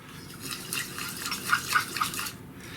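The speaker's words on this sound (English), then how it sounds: "let's just use this and just put a bit more elbow grease into the whipping." A mixture is whipped by hand in a bowl with a whisk. Quick light scraping and clinking strokes come in an uneven rhythm, close and fairly soft, with a few brighter metallic ticks.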